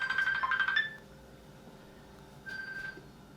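A phone rings with an incoming call, two short bursts of a bright electronic ringtone separated by a quiet pause, fairly faint and alone.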